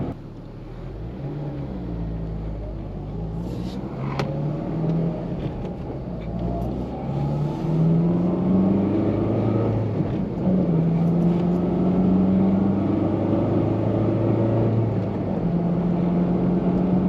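A slammed 8th gen Honda Civic Si drives at 4am, its engine giving a steady droning hum that rises in pitch through gear changes, heard from inside the cabin with road rumble underneath.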